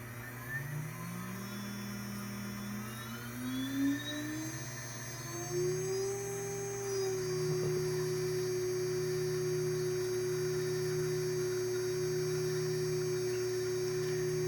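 A 1.5 kW 65 mm water-cooled CNC spindle powering up to 22,000 RPM, a steady electric whine rising in pitch in steps before settling into a constant high tone over a low hum, close and unbroken.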